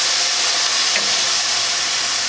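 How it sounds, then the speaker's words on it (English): One cup of vegetable stock pours into a hot pan and releases a loud, steady, close hiss of steam and sizzle that holds without a break. "I'm going to add 1 cup of vegetable stock"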